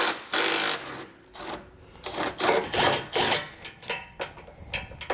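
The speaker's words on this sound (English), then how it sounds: "take a 14mm socket and run that through these access holes, and then just get those removed" A 14mm socket on a ratchet removes bolts through access holes while a hidden hitch is installed on a 2020 Subaru Forester, giving bursts of quick ratcheting clicks with short pauses between them.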